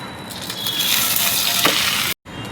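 A Bombay sandwich crisps in a pan over a low gas flame, giving a steady, close, even sizzle with a soft press-like swell near the end before cutting out briefly.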